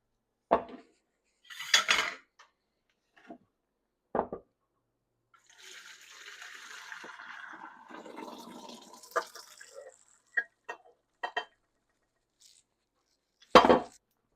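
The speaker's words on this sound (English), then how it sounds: "I'm gonna give this a good rinse, and then I'm gonna work it with my hands to get any pieces of hull" Hominy corn kernels are rinsed under running water, with a sustained wash of flowing water and splashing between sharp clinks of a pot and utensils, close by with no talking.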